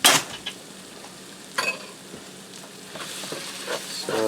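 Taco hashbrown casserole filling with cheddar cheese soup stirred in a sizzling pan, a continuous frying hiss broken by a few sharp scrapes and knocks of the spoon against the pan.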